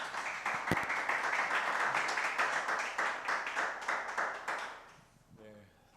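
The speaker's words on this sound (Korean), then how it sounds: "우리 박수로 강사님 맞이하시겠습니다" Attendees at a church leadership conference lecture applaud to welcome the speaker: a dense, even burst of clapping lasting about five seconds that then dies away, followed by a voice speaking briefly.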